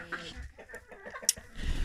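Soft hen clucks and low fowl murmurs come in short bursts, with rustling and a brief sharp chirp, ending in rising background noise.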